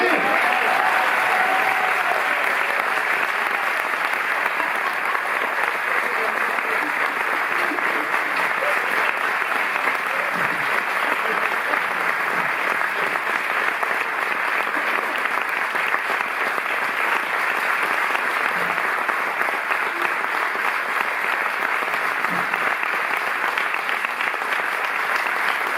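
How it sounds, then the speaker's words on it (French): Steady applause from a large audience, sustained clapping filling the whole stretch without pause. "Applaudissez Madame Annie Dupéry."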